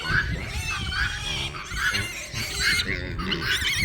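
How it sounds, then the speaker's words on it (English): Pigs squealing loudly and repeatedly on a farm, shrill overlapping cries in quick succession, close by. "And the pigs are super noisy."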